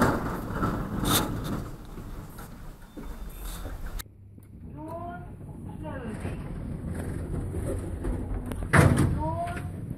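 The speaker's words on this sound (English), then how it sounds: "Door closing." A door in an old 1968 Marryat Scott lift motor room swings and shuts with a thud partway through, amid a rough, windy background, followed by a person talking nearby.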